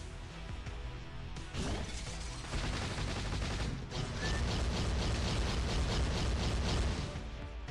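The Missile Simplicity skill attack in the game Marvel Future Fight, a dense barrage of rapid mechanical clacks, bursts and crashes that builds and carries on without pause, loud and busy, with no talking.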